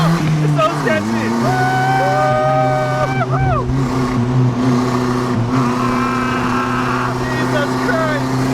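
A homemade turbocharged dune buggy drives with loud, rising and falling engine revs and a whining turbo pitch that climbs and dips, while people talk and shout over it.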